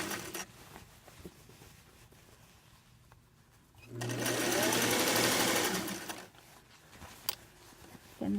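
A sewing machine stitching a seam allowance to the lining runs in one steady, close burst of about two seconds, with quiet handling sounds of fabric before and after.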